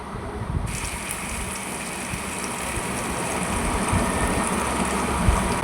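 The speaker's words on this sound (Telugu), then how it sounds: "నూక కొలుసుకున్న గిన్నెతో వాటర్ కొలుసుకుని ఆ వేగుతున్న టమాటా బాత్లో వేసుకోవాలి" Water streams steadily into a pan of frying tomato bath made with sooji, tomatoes and cumin, a continuous gushing pour that swells slightly toward the end, with no talking.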